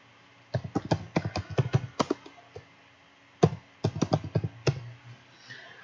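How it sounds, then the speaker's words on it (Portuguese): Keys clatter on a computer keyboard in two quick bursts of close, crisp keystrokes separated by a short pause, in a quiet room with no voices. "basta clicar Ctrl P e digitar o seguinte"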